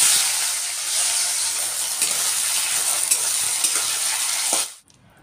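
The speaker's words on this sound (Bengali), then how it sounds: "এই আলুটা আর বেগুনটা ভেজে খেতে দেবো" Potatoes and eggplant frying in a pan at home, a steady close bright sizzle that continues unbroken for several seconds before cutting off abruptly near the end.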